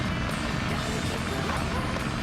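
Tails's plane flies in Sonic Adventure with a steady, loud propeller drone and wind roar filling the moment, continuous and close, with no pauses.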